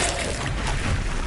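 Confringo fire spell from Hogwarts Legacy blasting in the game, a loud, dense burst of booming, crackling noise that fills the whole moment without pause.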